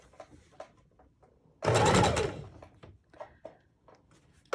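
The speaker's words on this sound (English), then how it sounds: "Now we'll take a couple stitches backwards." A sewing machine runs in one steady burst of a couple of backward stitches while a neck bone pillow is being sewn, close and loud, with quiet handling noises before and after.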